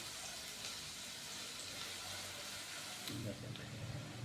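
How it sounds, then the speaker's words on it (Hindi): Onions fry in a pan for chicken bread pakora, giving a steady close sizzle and hiss throughout, with a brief louder bubbling burst near the end. "यहाँ पे हम प्याज को 2 मिनट के लिए फ्राई करेंगे, ताकि प्याज हल्का सा नरम हो जाए।"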